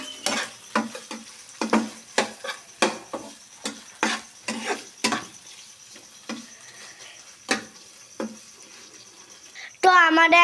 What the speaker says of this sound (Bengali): এবার আমরা এই সসটা ভালো করে নেড়ে চেড়ে নেব এই মাংসের সাথে।